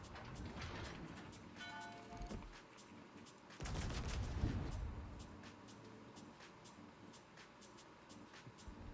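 Naval guns of the Chungmu destroyer fire in a World of Warships battle, a string of sharp booming salvos with a heavy burst near the middle over steady engine and ambient rumble.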